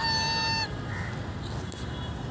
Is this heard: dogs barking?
no